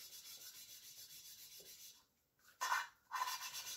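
Valves being lapped by hand in a Honda Civic Type R EP3 turbo engine, a soft repetitive gritty rubbing of valve against seat, quiet and close, with a brief pause and a couple of louder scrapes near the end.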